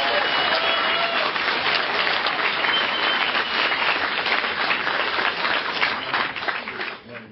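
A rally crowd at a Connecticut anti-war gathering applauds continuously in dense, steady clapping that fills the space, with some voices mixed in, before the applause thins at the very end.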